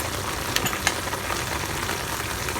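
Tomato paste with dry spices frying in a pan, a steady low sizzle throughout with a couple of sharp clinks from stirring, close and alone without talk.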